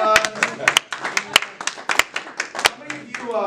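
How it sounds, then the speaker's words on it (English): An audience gives a round of applause, with sharp, distinct hand claps landing in a loose, uneven rhythm, fairly close and loud, while voices talk underneath. "give a round of applause"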